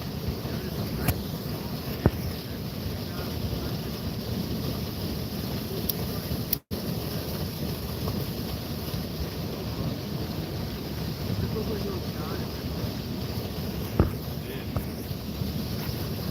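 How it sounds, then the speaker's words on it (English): Steady broadband rush of a waterfall running through the whole stretch, fairly loud and constant, with a brief dropout near the middle and no talk over it. "I hope that waterfall isn't too much background noise for folks."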